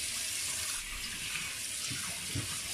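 A kitchen sink faucet with a flexible pull-out hose runs steadily into the basin, a continuous close hiss and splash of water with no talking.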